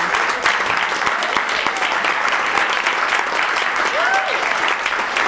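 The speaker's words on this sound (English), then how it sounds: "let's give a round of applause for them" A comedy improv show audience claps steadily throughout, a dense even applause close and loud, with a few faint voices mixed in.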